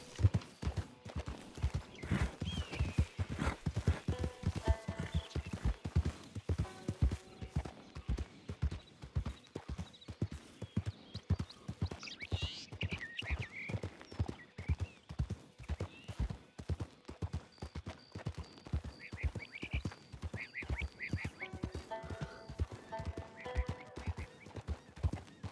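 Horse hooves clip-clop steadily in the Red Dead Online video game, a fast, even rhythm of close, clear hoofbeats running throughout, with an occasional whinny and bits of background game sound.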